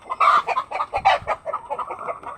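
A hen clucks repeatedly after laying an egg in a backyard poultry shelter, a quick rhythmic series of loud, close squawking clucks with no talk.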